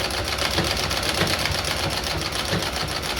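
A Singer model 12 treadle sewing machine stitches steadily, a fast even mechanical chatter with a regular rhythmic pulse, close and continuous with no talking.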